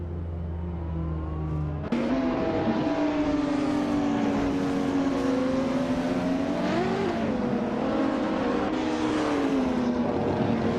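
Several race car engines in a racing video game, among them a 1995 Ferrari F50, roar continuously, with a sudden louder engine cutting in early and then whining and shifting pitch as the cars run laps.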